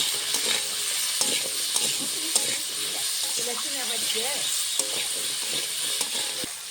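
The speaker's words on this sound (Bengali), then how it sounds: "দিয়ে দেবো স্বাদ মতো নুন, পরিমাণ মতন হলুদ গুঁড়ো দিয়ে ভালো করে ভেজে নেবো আলুটা" Potatoes fry with salt and turmeric in a pan, giving a steady close sizzle with occasional stirring scrapes and small pops.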